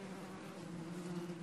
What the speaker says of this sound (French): Je guette le bourdonnement des abeilles